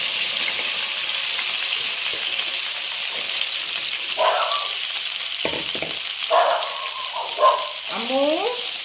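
Okra sizzles and crackles steadily in hot oil with cumin seeds and peanuts, a close, continuous frying hiss with a few stirring scrapes and brief speech near the end.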